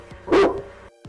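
A single dog bark in a radio commercial, loud and close, with a faint yelp before it and another brief yelp near the end.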